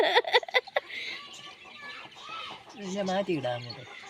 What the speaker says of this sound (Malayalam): കോഴി അമ്മ അയ്യത്ത് പോച്ചയ്ക്ക് പോയിട്ട് വന്നതാണ് കേട്ടോ